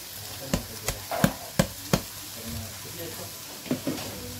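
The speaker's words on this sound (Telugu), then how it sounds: "వేసేసుకొని చిన్నగా కలుపుకోవాలి." Amaranth leaves with green chillies fry in a large kadai over low flame, a soft sizzle broken by a series of sharp spatula scrapes and knocks, several in quick succession and then two more, close and clear.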